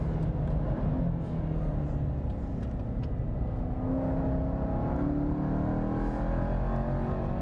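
A Jaguar XE SV Project 8 with a 5-litre supercharged V8 and all-wheel drive accelerates out of the pits at Portimao race circuit, a muffled interior drone climbing in pitch over several seconds, steady and moderately loud.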